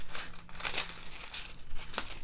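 A sheet of foil crinkles as it is laid pretty side up over a project, giving soft, close rustling with a few sharper crackles.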